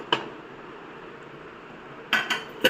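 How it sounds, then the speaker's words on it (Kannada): Metal lid of a pressure cooker being opened after cooking urad dal, one clank at the start, a quiet stretch, then a quick run of clinks and knocks, close by. "ಈಗ ಕುಕ್ಕರ್ ಆರಿದೆ. ಇದನ್ನು ಮುಚ್ಚಳವನ್ನು ತೆಗೆಯೋಣ."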